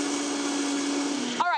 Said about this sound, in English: the blender's had a time to like incorporate some air into the situation